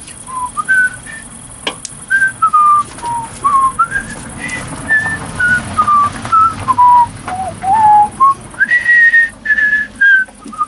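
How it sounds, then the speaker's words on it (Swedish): A person whistles a wandering, bright melody in short phrases with small pauses, clear and close, with no talking. "Så då kan jag vissla lite."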